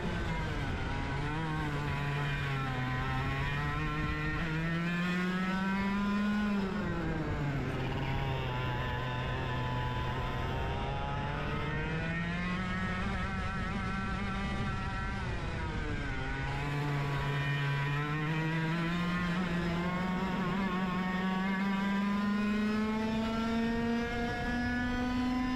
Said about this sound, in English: This was also taken in a 100cc kart during a club race.